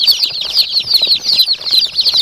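Gavran country chicken chicks cheep and peep in a dense, continuous, high-pitched chorus, many birds calling at once, close and fairly loud, with faint shuffling beneath and no talking.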